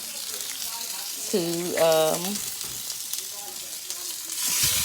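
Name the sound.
oxtails frying in a pan to brown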